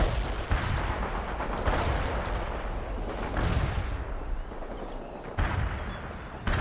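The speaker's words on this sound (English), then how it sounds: "We're under fire!" A video game battle with dense, continuous gunfire and booming artillery, a loud, sustained roar of shots and blasts throughout, with no talking.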